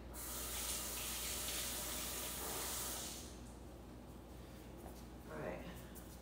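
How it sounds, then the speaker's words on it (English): Tap water runs into a kitchen sink as hands are rinsed, a steady broadband hiss for about three seconds before easing to a softer trickle with small splashes. "let me rinse my hands off"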